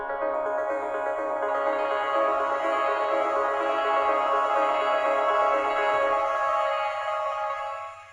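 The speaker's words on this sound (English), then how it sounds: "I then added a delay bus on top with the bit crusher," Synthesized atmosphere pad run through a delay bus with bit crusher, EQ stripping most lows and mids, and tremolo, a dense sustained shimmering drone with steady pulsing and faint low thumps, fading at the end.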